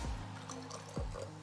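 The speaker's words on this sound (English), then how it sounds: "we're just gonna top it off with our soda water" Soda water trickles briefly into an Aperol Spritz to top up the drink. The pour is quiet and close, with a few faint splashes and drips over about a second.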